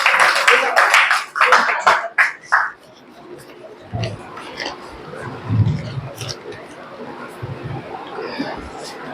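Loud, sharp hand claps in a quick burst during Durga Mahotsav devotion at home. The ritual clapping opens the moment, then gives way to a voice speaking with faint taps and rustles.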